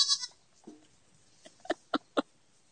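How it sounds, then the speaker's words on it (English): A goat standing on top of a chicken coop gives a short, faint bleat, followed by a few sharp, hollow taps in quiet surroundings. "it looks like we have a goat up on the chicken coop"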